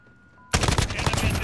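Rapid automatic gunfire in Call of Duty Modern Warfare erupts suddenly after a quiet moment, loud and dense with overlapping shots continuing steadily to the end.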